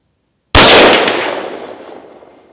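A single .308 Winchester rifle shot firing Hornady Superformance Match 178 gr BTHP ammunition: one sharp, loud crack after a brief silence, then a ringing decay that fades over about two seconds.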